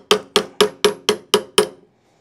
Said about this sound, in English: grab one hammer here, give that a little tap